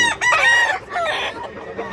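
A gamecock rooster crows loudly at close range in one long drawn-out call, followed by softer clucking from other fowl.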